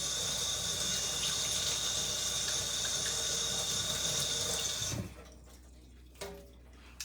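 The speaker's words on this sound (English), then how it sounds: "Let me rinse my hands off real quick." Tap water runs steadily into a sink as hands are rinsed, a close hissing splash lasting about five seconds before the flow cuts off, followed by a few faint drips and handling sounds.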